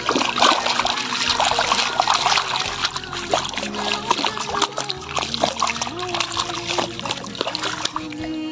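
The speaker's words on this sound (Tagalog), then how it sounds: "ang sarap maglaro sa tubig, tulad nito" Water splashing and sloshing in Lake Lanao, a steady busy wash of splatter and trickle with people talking over it throughout.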